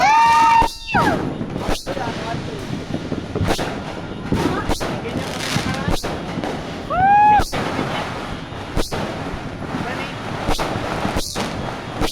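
New Year fireworks going off at a distance, sharp booms and pops every second or so, with whistling rockets rising and occasional voices in the background, watched from a balcony.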